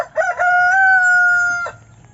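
A rooster on a small backyard mini farm lets out one loud, close crow that rises and holds its pitch for over a second, preceded by a few short clucks, with no talking over it.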